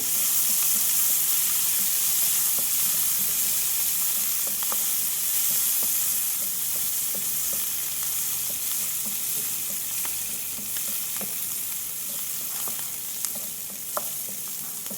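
Green bean curry with turmeric and onion frying in a pan, a continuous close sizzle and hiss running steadily throughout, with a few faint spoon taps and stirs near the end and no voices.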